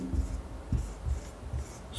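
Chalk or pen writing on a board during a maths lesson, four or five short scratchy strokes spaced about half a second apart, close and moderately loud, with no speech.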